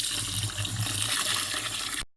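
Water running from a tap and splashing into a pot of rice set to soak for biryani, a steady gushing pour that lasts about two seconds and then cuts off abruptly.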